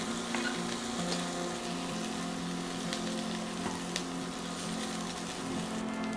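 Chicken meatballs browning in oil in a pan give off a steady, close sizzle and fry with faint stirring scrapes, continuous and even throughout.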